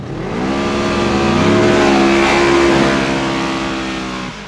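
A Mercedes-AMG G63 G-Wagon and a Razor rev hard together in a tug of war, a loud, sustained engine roar that holds steady for several seconds and then drops off.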